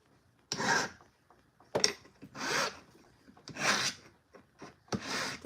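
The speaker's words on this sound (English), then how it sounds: "I'm just cleaning up all of my hammer marks from hammering it on my mandrel" A file rasps over a handmade metal ring, smoothing out hammer marks in close, rhythmic strokes, each a short burst of scraping separated by brief pauses.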